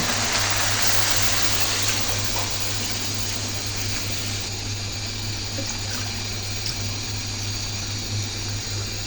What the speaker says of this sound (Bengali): একটু হালকা পরিমাণ পানি যোগ করে নেব